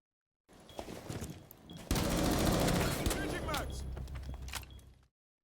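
MP5K submachine gun fire in Rainbow Six Siege, a rapid automatic burst of loud, dense shots lasting a few seconds before cutting off.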